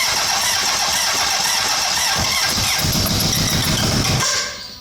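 A 1980 Honda CB750F motorcycle engine, mid-rebuild as a cafe racer, runs loud and close with a rough, busy rumble and fluttering revs, then dies away abruptly near the end.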